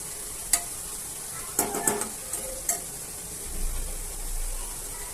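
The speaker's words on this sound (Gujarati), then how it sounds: "હવે એકવાર ફરીથી ચેક કરીને તેમાં ટમેટાં ઉમેરી દઈએ અને ફરીથી થોડું મિક્સ કરી લઈએ" Tomatoes are stirred into a cauliflower and potato curry in a pan over a soft sizzle, with a few sharp spoon clicks and scrapes against the pan.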